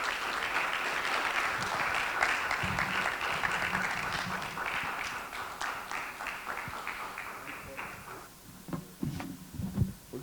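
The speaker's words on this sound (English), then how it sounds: "Put your hands together for him, please" A lecture audience greets Professor Adele Jinadu with steady, fairly distant applause from many hands that tapers off after about eight seconds, leaving scattered louder claps and thuds at the end.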